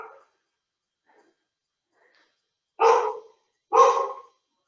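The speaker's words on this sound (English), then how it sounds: "You can hear my guard dog in the background." A guard dog barks a few times in the distance, with one faint early bark and then two clear, separated woofs, all alone against a quiet background.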